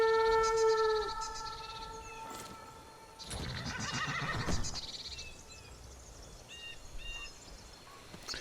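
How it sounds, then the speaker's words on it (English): A horse in Skyrim whinnies loudly at the start, followed by softer rustling, a brief burst of movement, and a few faint chirps in the background. "Let's try horse call."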